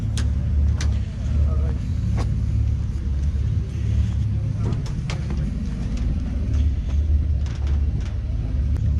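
A turbocharged SR20-engined Toyota Celica at an outdoor drift event rumbles steadily in a low idle, with sharp clicks and knocks scattered over the engine drone.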